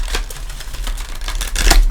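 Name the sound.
tarot cards being shuffled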